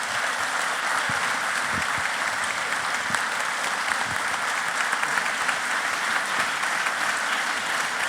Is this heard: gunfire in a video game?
no